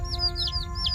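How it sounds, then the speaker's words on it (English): Young chick of a chicken, cheeping with a few short high-pitched chirps in quick succession over a low background hum, close and moderately soft. "Chick chirping."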